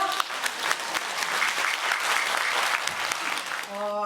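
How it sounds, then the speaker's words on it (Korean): Audience applause greeting a pansori singer at a public lecture event, steady dense clapping from a crowd for several seconds, with a voice briefly speaking at the end. "대전시 무형문화재 제22호 고향임 명창님을 힘찬 박수로 맞아주시죠."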